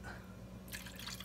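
Vinegar is poured into a cooking pot while preparing sinaing na tulingan, a faint liquid trickle and splash rising near the end of a brief moment over low kitchen hum.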